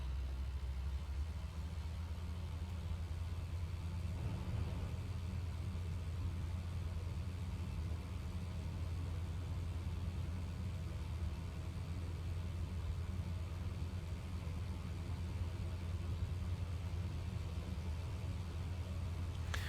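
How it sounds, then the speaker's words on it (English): The radial engine of a Sopwith Camel in the flight game IL-2 Great Battles drones on steadily at low volume, an even, unbroken rumble throughout. "So the Dolphin is an inline engine, but this is a radial engine."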